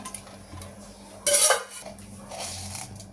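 A metal kadai set down for tomato rice, with one sharp clanging clatter of metal against the stove and utensils, followed by softer scraping and light knocks close by.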